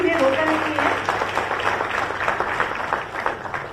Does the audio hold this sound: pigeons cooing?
no